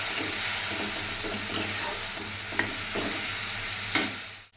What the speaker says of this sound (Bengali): একটু জল দিয়ে ভালো করে কষাই নিই।